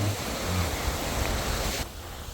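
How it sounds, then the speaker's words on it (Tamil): Sea waves on a beach roll in under steady wind, a continuous broadband wash of surf that stays loud and even before dropping abruptly near the end. "பாருங்க நல்லா அலைகள்லாம் வந்து வந்து போகும்"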